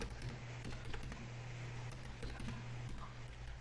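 Quiet, rapid clicking of typing on a computer keyboard, a soft irregular patter of keystrokes over a faint background hum.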